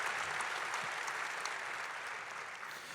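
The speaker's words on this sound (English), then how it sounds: "One more round of applause for Mayor Winter and for the Indigenous folk" An audience at a city State of the City address claps in sustained applause, a dense even patter of many hands that tapers slightly toward the end.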